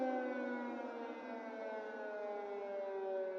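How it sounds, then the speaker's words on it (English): A steady air raid siren in Kyiv wails continuously, loud and sustained with layered harmonic tones, no voices present. "This is an air raid siren in Kyiv."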